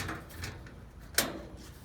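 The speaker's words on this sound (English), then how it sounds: "and close this door," Hatch door on an MB 1050 GF combustion system swings shut with a single sharp metallic clunk partway through, set against quiet low background noise.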